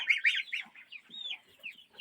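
Chickens at a chicken coop give close, bright clucks and short squawks in quick irregular bursts, with several birds calling over one another and no talking.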